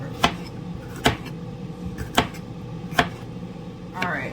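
A knife chopping red pepper on a board in a home kitchen, five sharp separate cuts spaced roughly a second apart over a low steady background hum.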